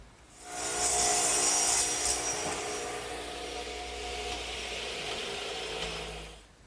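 A saw cuts through wood at a 41.5-degree angle for a garden swing seat support, a steady close rasping stroke that holds for several seconds before fading out.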